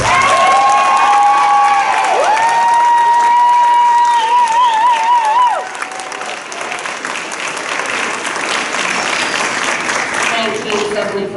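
Audience applause and cheering at a school principal's awards event, loud and steady at first, then somewhat quieter, with some whistle-like tones early and a voice over the crowd.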